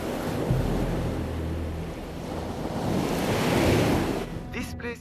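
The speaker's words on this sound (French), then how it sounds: "Les vagues puissantes arrivent violemment dans cette antichambre." Powerful sea waves surge violently into a dangerous sea cave, a loud sustained roar and wash of surf with wind buffeting the microphone, swelling toward the end before a few brief sharp knocks.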